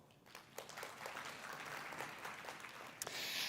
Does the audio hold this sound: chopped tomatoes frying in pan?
no